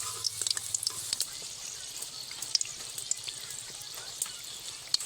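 Mango-leaf chops deep-fry in hot oil in a wok, giving a steady bright sizzle with scattered crackles and pops throughout, heard alone without talk.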